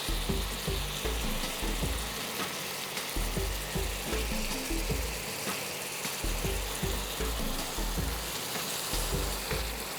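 Prawns fry in a pan with a loud, continuous sizzle, broken by repeated scraping and shuffling strokes as they are turned, close up and without voices.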